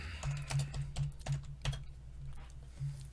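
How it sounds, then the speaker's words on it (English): Rapid typing on a computer keyboard during a live tech chat, a steady run of close, crisp key clicks over a constant low hum with no talking. "Let me type that."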